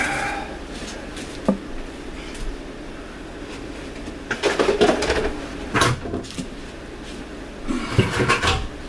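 A defrosted boneless skinless chicken breast is unwrapped from its packaging, giving close, crinkly plastic rustles in a few short bursts over a quiet room, with no one talking.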